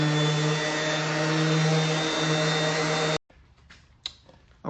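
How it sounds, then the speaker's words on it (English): Sanding a wooden cutting board made of diamond-shaped pieces with 220 grit sandpaper, a steady loud powered whir that stops abruptly, followed by a few faint scraping and handling noises. "So I've got some 220 on here. Sand it."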